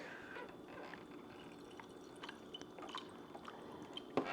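Water trickles and splashes faintly as it is poured into Starbucks cold brew coffee concentrate, with small drips and clinks against a quiet background hiss.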